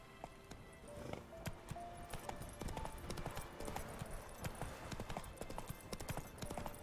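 Horse hooves clip-clop at a steady riding rhythm in Witcher 3, a continuous run of close, clear hoofbeats with game ambience and a faint voice underneath.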